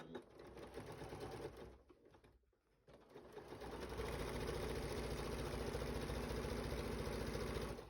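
Sewing machine basting stabilizer and batting around a triangle pouch, a close, fast mechanical whirr that pauses briefly, then resumes in a steady, louder run of rapid stitching.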